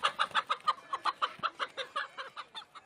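Chickens cluck in a quick, steady run of short throaty calls, about a dozen evenly spaced notes that soften toward the end, close by and without talk.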